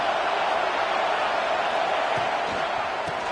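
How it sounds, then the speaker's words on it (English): Football stadium crowd cheering near the goal line during a Texas versus Florida game, a dense, steady roar of many voices that stays loud for the whole moment. "the crowd really making some noise now, trying to help out this defense to get this stop near the goal line"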